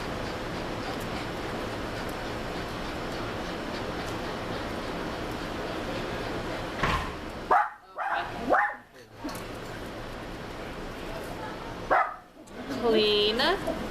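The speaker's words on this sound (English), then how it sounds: "They don't want to hear you barking." A dog barks in several sharp bursts, a couple of them yipping, close by and intermittent. People talk over a steady room noise at the same time.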